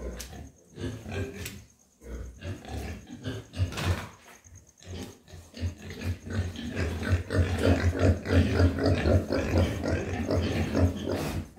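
Pigs grunt and snuffle continuously in a farm pen, a dense, close chorus of low oinks that grows busier and louder as it goes, with a herd only a few months old fed on vegetables and rice-wine mash.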